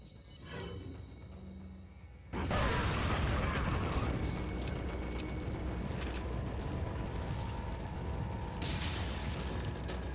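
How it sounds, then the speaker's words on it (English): A hand grenade thrown in Resident Evil 4 Wii Edition goes off in a sudden loud blast, followed by a sustained roaring rumble that holds steady for several seconds. "I just huck a nade."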